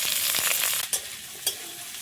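Potatoes, radish and onion sizzle steadily in hot oil in a pan for a Bengali taro-and-prawn curry, with a dense continuous hiss and a couple of sharp clatters from stirring.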